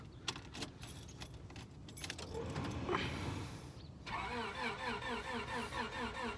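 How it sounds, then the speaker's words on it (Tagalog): A car engine cranks and struggles to start in cold weather after sitting unused for a long time, with keys jangling first, then a rising, uneven churning that settles into a rhythmic, labored turnover. "Parang ayaw pang umandar ng sasakyan natin mga katropa dahil sa dinding ng lamig."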